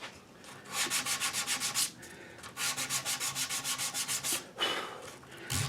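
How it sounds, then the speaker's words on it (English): Wood being sanded by hand with sandpaper, in two bursts of quick rhythmic back-and-forth strokes with a short pause between them and a final few rubs, close and clear. "touch it up with the sandpaper."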